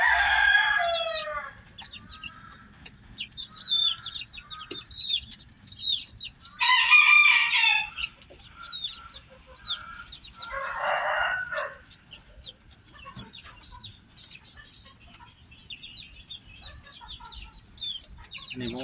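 Roosters crow loudly in bursts over steady clucking and peeping from month-old young chickens on a farm, with scattered chirps throughout and no talking.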